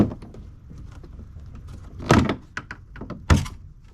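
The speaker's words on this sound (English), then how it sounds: "we're going to go ahead and pry this open." Plastic trim panel clips on a 2021–2023 Ford F150 are pried loose, giving two sharp, loud pops about a second apart over quieter handling noise.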